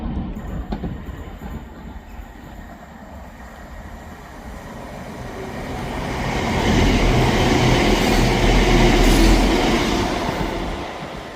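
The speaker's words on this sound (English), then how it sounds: "Passing through now is a ScotRail service from Edinburgh Waverley to Aberdeen." A ScotRail service from Edinburgh Waverley to Aberdeen passes through Ladybank station, a steady rail rumble and wheel noise that swells from moderate to loud over the second half, with no talk.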